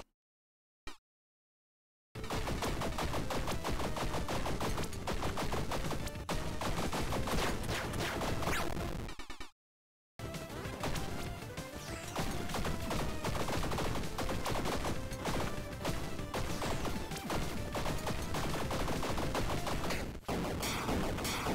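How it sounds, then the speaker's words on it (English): Pistols fire in the pixel roguelike Tiny Rogues: dense, rapid volleys of gunfire that start after a short silence, break off briefly midway, then resume relentlessly until the end. "Blanking and banging pistols."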